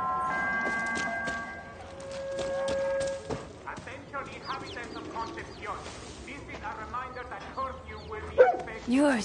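Dog barking inside the video game Far Cry 6, several bark-like bursts mixed with game music, hoofbeats and other in-game effects, with a voice talking over parts of it.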